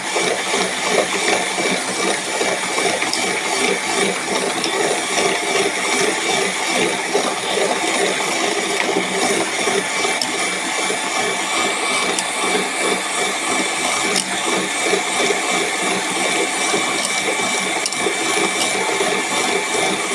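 Cake batter beaten steadily in one direction gives a loud, unbroken churning whir that holds at an even level for the whole stretch, with no voices over it.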